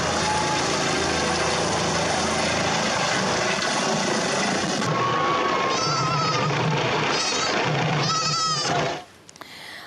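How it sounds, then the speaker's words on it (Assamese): A helicopter landing, its loud steady engine and rotor drone close at hand, with a goat bleating several times over it before the noise cuts off abruptly near the end. "তাৰ পিছতহে হেলিকপ্টাৰ অৱতৰণ কৰিলে"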